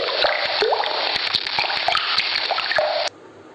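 Water falling drop by drop, heard as a steady, close splashy patter with small sharp plinks throughout that stops abruptly near the end.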